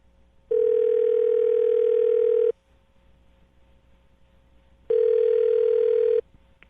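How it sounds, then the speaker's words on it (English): Two long steady telephone dial tones sound in a handset before a call is placed, each lasting about two seconds and separated by a quiet gap, clear and alone with no talk. "I'm going to dial the phone number right now"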